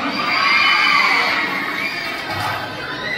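A crowd at a Miss Gay Pride Muse pageant event in Barangay Daungan, Guiguinto, Bulacan, shouts and cheers steadily throughout, with children's high-pitched yelling prominent in the dense, continuous roar.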